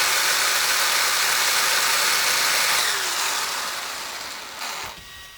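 Electric RC car motor on a Hobbywing XR10 stock spec ESC with boost firmware, spinning up at full throttle into a sustained high whine, then winding down near the end.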